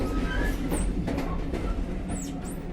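A passenger train hauled by a diesel locomotive rolls across diamond crossings into the platform at Crewe station, with steady rumbling wheel noise, clattering over joints and faint high squeals of wheels on rail, close and continuous.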